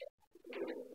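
A pigeon, kept alongside chickens, gives a soft, low coo, faint and somewhat distant, after a couple of brief quieter sounds, with no voices.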